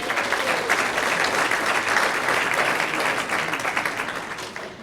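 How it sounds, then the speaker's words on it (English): Banquet audience clapping in a sustained round of applause, full and steady, then tapering off slightly toward the end. "let's give her another round of applause"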